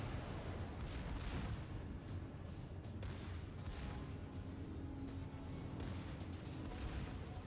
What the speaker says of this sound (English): My secondary is opening fire already.